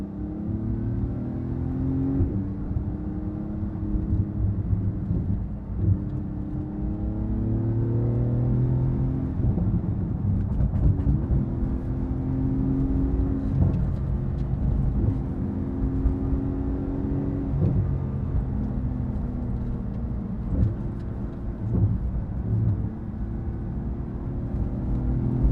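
A Porsche GT2RS engine pulls hard through its gears while driving, rising tones climbing and dropping at each shift over a constant road and cabin rumble, with no talk.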